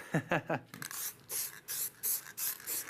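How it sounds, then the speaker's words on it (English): Several short hissing bursts of bright yellow spray paint on a bird feeder, evenly spaced, following a few moments of speech at the start. "what we're going to do is actually spray it"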